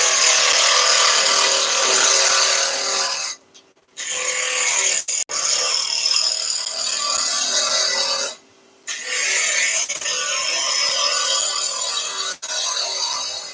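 A wood lathe roughs down a pre-drilled blank held on a single-point tailstock center, giving a loud, continuous rough scraping hiss that cuts out briefly twice as the tool lifts off.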